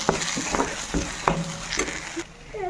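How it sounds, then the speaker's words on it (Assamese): Ground cumin, garam masala and turmeric being stirred in a frying pan for matar paneer, with a steady sizzle and several sharp scraping strokes of a spoon, close and loud, with no talking. "এতিয়া ভালদৰে লৰাই গোটেইখিনি মিক্স কৰি দিম।"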